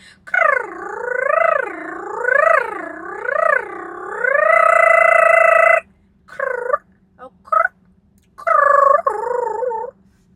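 A woman imitating a bird call with her voice, making loud, wavering warbles that rise and fall several times and then break into short choppy bursts with brief pauses, close and alone.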